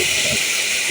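Cauliflower with its stems, eggplant, flat beans and green tomato land in a hot pan of spiced oil, giving a steady, close, fairly loud hiss that holds evenly for a moment with no talking.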